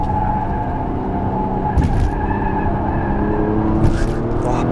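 A Porsche Panamera 4 E-Hybrid corners hard, its tires squealing in a sustained high whine over the rumble of the engine and road noise, with sharper bursts of squeal as the grip limit is pushed.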